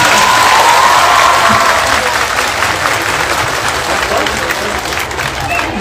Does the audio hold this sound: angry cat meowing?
no